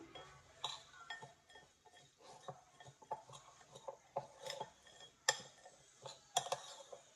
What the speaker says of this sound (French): Et on mélange ça bien.